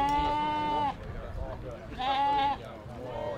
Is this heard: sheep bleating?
yes